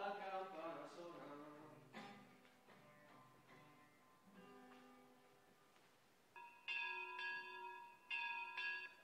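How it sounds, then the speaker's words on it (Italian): A church bell peals through several strikes, each decaying slowly. A brighter, faster run of chimes follows near the end. "la campana suona."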